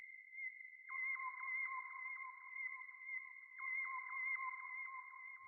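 Whistler Winds, a sound effect pad in Ableton, gives a thin, steady whistling tone that splits into two pitches with a fluttering, pulsing texture between them, holding evenly for several seconds alone.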